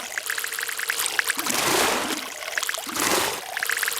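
A water recording plays through speakers in a seminar room, a steady trickle broken by two louder pouring, splashing surges.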